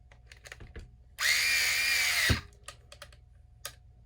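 A cordless driver briefly whirs for about a second, tightening a screw on a YD-2 RC drift car, set between quiet clicks and small handling taps.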